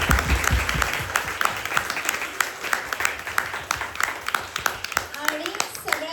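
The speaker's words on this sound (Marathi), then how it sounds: "आणि एकदा प्रत्येकासाठी स्वतःसाठी टाळ्या वाजवा जोरात." Enthusiastic clapping from a school audience at an eleventh-grade arts stream manuscript launch ceremony, sharp close hand claps over a crowd, with voices talking over the applause.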